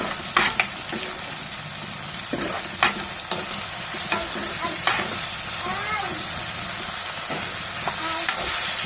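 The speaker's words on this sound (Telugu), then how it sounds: "పచ్చిమిరపకాయలు టమాటా మంచిగా లైట్గా ఫ్రై అయిపోయింది" Green chillies and tomato fry in a pan with a continuous, close sizzle, broken by scraping stirs and several sharp spatula clinks against the metal, with no talking.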